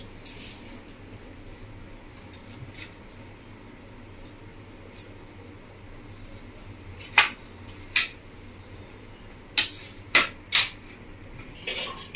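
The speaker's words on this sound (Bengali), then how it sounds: "আমি তখন আমটা কেটে নিচ্ছি।" A kitchen knife slices a ripe mango into pieces, giving five sharp, crisp clicks of the blade striking the cutting surface at irregular intervals over a low, steady room hiss, with no talking.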